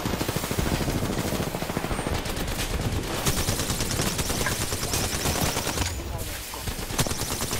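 Nonstop automatic gunfire in Apex Legends, dense rapid bursts of shots running loud and close through the whole stretch with almost no pause.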